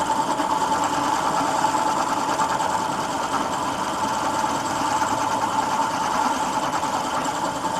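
A large cutting machine works through a metal block, giving a steady, loud mechanical drone with a fine buzzing vibration throughout, no speech.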